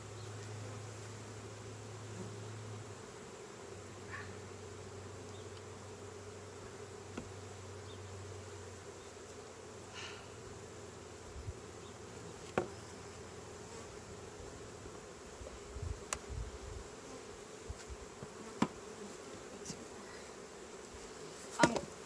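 Honeybees drone in an open hive during an inspection, a soft, steady buzz that fills the whole stretch, with faint clicks and light handling knocks near the end and no voices.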